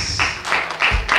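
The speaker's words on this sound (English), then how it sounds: "Clap down and worship to Jesus." Congregation at a gospel concert worship service clapping in time, four or so crisp rhythmic claps in quick succession, close and lively, with no voices.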